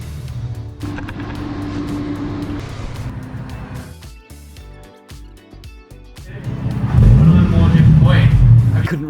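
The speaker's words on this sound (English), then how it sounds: "I couldn't resist a little cheeky rev." A crashed car left with three wheels has its engine revved, first a steady running note, then a louder surging rev toward the end, with speech heard alongside.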